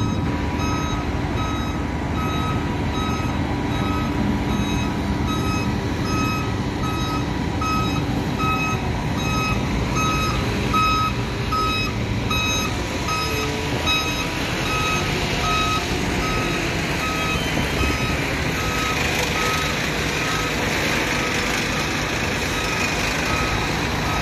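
Concrete truck at a retaining wall and footing pour, its engine rumbling close and loud under a regular series of reversing beeps that keeps going throughout, with no talk.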